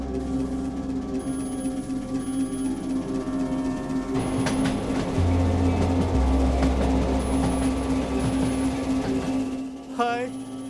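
A train rolls past with a heavy rumble and rhythmic wheel clatter, building louder midway, then a squeal near the end, with voices talking over it throughout in an eerie story scene.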